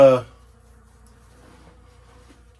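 A bee buzzes loudly right up close for a split second, then the sound drops away to near quiet.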